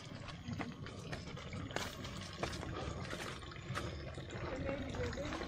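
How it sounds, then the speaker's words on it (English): Small drops of water trickling from a mountain source into a collection spot in an African village, a steady close bubbling dribble with scattered brighter drips, fairly quiet and continuous. "the water, it's just like a small water, small drops of water is coming to this place"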